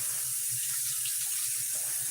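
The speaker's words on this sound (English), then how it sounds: "I'm gonna wash my hands." Water from a bathroom tap runs steadily into a sink as hands are washed, a soft continuous splashing hiss with no talk.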